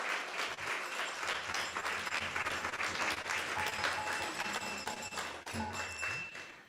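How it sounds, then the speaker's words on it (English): Steady audience applause fills a temple hall after a Krishna devotional talk, dense and sustained clapping from a crowd with a few scattered louder claps near the end. "let's give a big round of Hari Bol and applause to Rohini Priya Prabhu"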